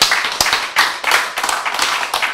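A group claps together in a class or lecture setting, a burst of dense, fairly loud hand claps with uneven bunched accents, lasting a couple of seconds with no talk over it.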